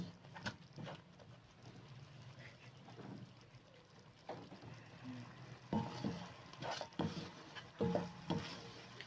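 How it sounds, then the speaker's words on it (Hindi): Minced meat (keema) fries with salt, red chili and turmeric in a pan, with soft sizzling broken by intermittent scraping and stirring strokes that grow louder and more frequent toward the end. "हम अब इन्हें अच्छे से मसालों के साथ भून लेंगे कीमे को"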